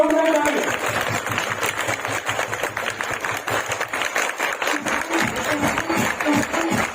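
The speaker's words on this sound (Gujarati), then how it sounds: "જોરદાર તાળી" An indoor training-program audience claps loudly and steadily, a dense sustained applause that runs throughout with little break.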